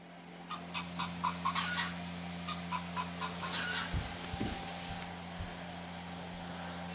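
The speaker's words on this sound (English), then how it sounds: "But, here's the French hen." A Wild Republic Audubon plush French hen toy plays its call, a quiet run of quick clucking pulses in two bursts, followed by a few soft handling thumps.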